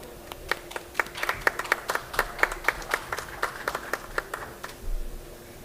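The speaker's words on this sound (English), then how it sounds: "First, please give a round of applause to Chairperson Ja Nam-soo" A sparse audience at a COP26 Korea pavilion conference event gives a modest round of applause, distinct separate claps in an uneven patter, fairly quiet and slightly distant.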